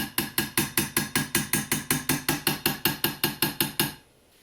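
A hammer taps a Conn New Wonder II alto saxophone key guard in a quick, even series of about twenty ringing metallic strikes, close and bright, stopping abruptly near the end.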